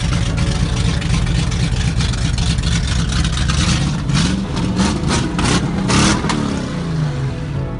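Mercedes 350 SLC coupe engine idling unevenly through an exhaust cut in the middle, a loud, raw, continuous rumble with rough pulsing and occasional brief rises in revs.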